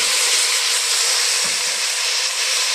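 Coriander frying in a hot pan, a loud, steady sizzle throughout with faint stirring and no talking.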